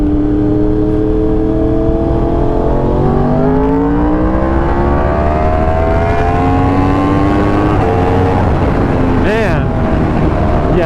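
A Yamaha R1 sport motorcycle with a flashed ECU screams as it accelerates hard on a street, its loud, close engine note climbing through several gear changes.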